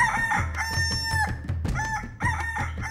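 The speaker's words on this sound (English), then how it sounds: "the cockerel stood up and flapped his wings 3 times, crowing with a voice like a trumpet" A cockerel crowing loudly and close, repeated bright trumpet-like calls with some clucking in between, heard alone without talk.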